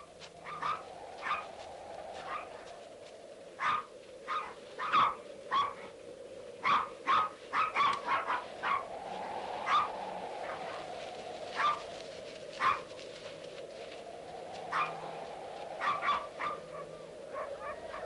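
Dogs bark and yip repeatedly in scattered bursts, several animals at moderate distance, with a steady background rumble.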